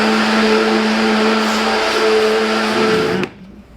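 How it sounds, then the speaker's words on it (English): A blender runs on high, whirring vegan gluten-free gravy with a loud, steady motor drone and churning roar, then cuts off abruptly and leaves a quiet hum. "We're just gonna let it blend for about 2 minutes on high."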